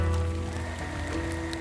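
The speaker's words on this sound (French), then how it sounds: "La pluie n'a pas cessé, le feu brûle encore." Steady rain falls in a continuous, even wash of patter, with a low crackling fire beneath it and no voices.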